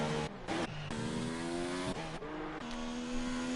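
A Renault race car in a racing game, running at high revs through a lap. The engine whines steadily and shifts pitch through several gear changes, loud and close, with no talk.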